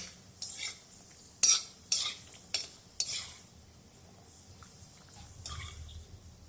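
Turmeric dry-roasting in a pan for a Maharashtrian kala masala, a utensil scraping and stirring in a few distinct strokes over a faint, low crackle, close and fairly quiet.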